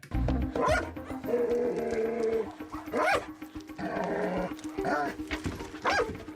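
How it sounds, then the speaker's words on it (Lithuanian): A dog barking outdoors, repeated loud rough barks and yelps in uneven bursts, close by, mixed with people talking and a steady background hum. "te šuo loja"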